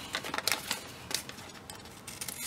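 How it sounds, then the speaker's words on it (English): Scissors snipping through paper, trimming a stamped old book page for a crafting project; a run of short, crisp cuts close by, fairly quiet, with no talk. "Then I'm going to get some scissors."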